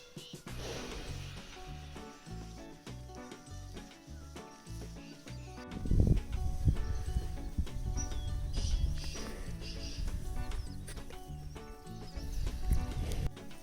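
Buffaloes walk out toward the forest in the Uttarakhand mountains: irregular hoof thuds and clops, with a louder cluster of steps partway through and shuffling movement throughout.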